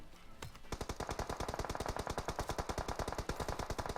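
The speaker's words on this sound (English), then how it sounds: "there's Clanless crew shooting on Team Militia" Rapid automatic gunfire in the video game PUBG Mobile during a pro championship match, a fast, even stream of sharp shots rattling continuously after a brief lead-in.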